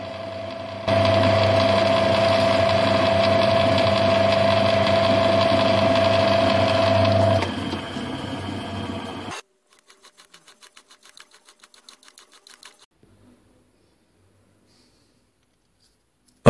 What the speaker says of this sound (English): Each end is drilled and tapped for a screw.